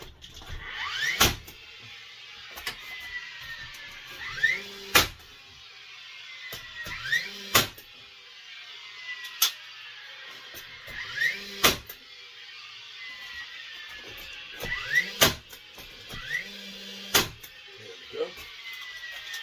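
A nail gun drives nails into cement board inside a shower, firing about eight sharp, loud snaps spaced a couple of seconds apart over a quiet background.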